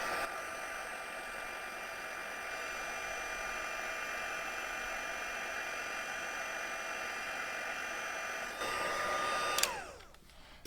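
A heat tool melts embossing powder for an emboss resist card technique, giving a steady loud blowing whir that runs continuously before clicking off near the end.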